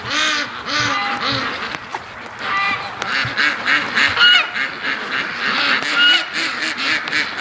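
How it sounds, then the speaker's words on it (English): Ducks and geese calling in a noisy, overlapping chorus, honks and quacks layered over steady rain, fairly close and continuous throughout. "catch some epic duck action in the mud"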